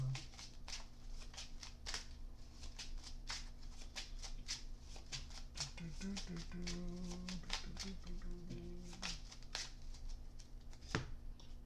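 Playing cards being shuffled repeatedly, a run of quick crisp riffles and taps spread across the stretch, fairly close and quiet, with a low steady hum underneath.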